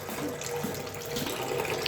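Fresh apple juice from very juicy apples streams out of a fruit press in a continuous, close splashing pour that holds steady for the whole moment, with no voices.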